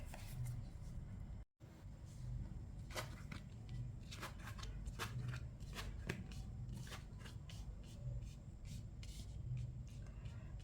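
Tarot cards being shuffled in a steady run of soft riffling, close and fairly quiet, with one short break early on and a low background hum throughout.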